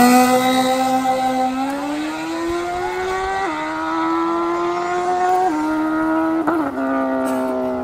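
Drag-strip grudge racing at night, with nitrous street bikes including a Suzuki GSX-R1000 ridden by a woman, screaming loudly through rising gear-by-gear shifts as a high-revving engine pulls away close by.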